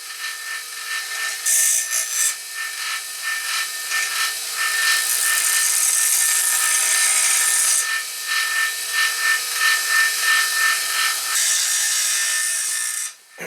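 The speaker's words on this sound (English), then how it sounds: "Now I'm just going to take my bench grinder and clean up these edges a little bit." A bench grinder smoothing the edges of a wooden duck decoy: a loud, steady abrasive whirring and rasping as the wood is pressed against the wheel, in a few long passes with short breaks, no talking.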